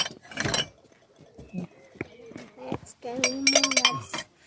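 Discarded drinking glasses in Germany are picked up and handled, giving several bright clinks and rattles close by between bursts of people talking.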